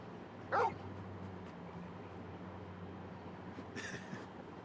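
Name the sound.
dog Torgal barking and whimpering in video game Final Fantasy 16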